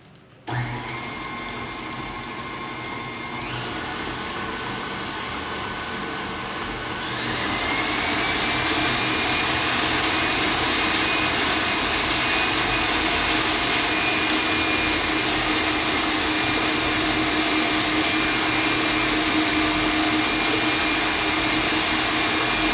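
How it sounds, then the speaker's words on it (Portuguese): An electric stand mixer beats blue velvet cookie dough with a steady, close whirring drone that climbs in pitch and loudness after a few seconds, then holds level, with no talking. "E agora eu vou ligar novamente minha batedeira. Eu vou voltar a bater a massa."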